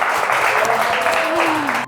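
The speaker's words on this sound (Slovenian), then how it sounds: "En aplavz." Audience applause at a Slovenian talent show, a steady broadband clapping wash lasting about two seconds with faint voices mixed in, cutting off abruptly at the end.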